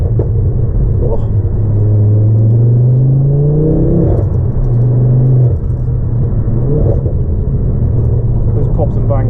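A Ford Focus ST at speed on a road gives off a loud, continuous engine and exhaust rumble heard from inside the cabin. The revs rise and fall, and a few faint pops can be picked out as the throttle changes.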